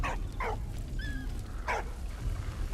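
A dog in the World War I video game Valiant Hearts: The Great War gives several short barks and yips, spaced irregularly with a brief whine between, over a low rumbling game background.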